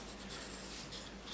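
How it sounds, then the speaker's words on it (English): A pencil traces steadily along a straight edge during a home domino-making project, giving a continuous, close, dry scratching with no pauses. "I'm going to take my pencil"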